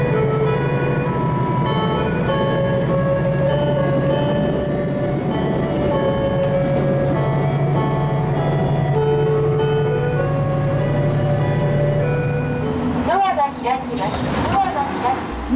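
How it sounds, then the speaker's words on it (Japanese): A Super Hakuto limited express pulls out of Osaka station alongside a rapid train, with a loud, steady rolling rumble and tonal motor whine that sharpens near the end, and voices underneath. "大阪駅では網干行き快速電車と同時発車でした"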